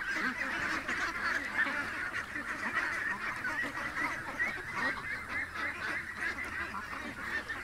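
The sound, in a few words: ducks quacking while being fed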